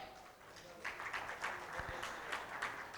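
A conference audience gives a speaker a round of applause, scattered claps building to a modest, fairly distant patter at low level.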